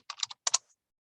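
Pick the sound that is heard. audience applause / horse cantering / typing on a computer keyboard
typing on a computer keyboard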